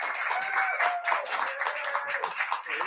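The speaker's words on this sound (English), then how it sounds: "So give a nice little warm applause for Don Shanahan." An awards event audience claps warmly in dense, steady applause that fills the room, with a faint voice heard underneath.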